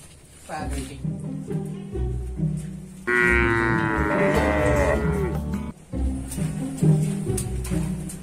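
Aceh cattle on a traditional farm, with a long, loud, close moo rising and falling in the middle and shorter lowing calls around it, while people talk nearby.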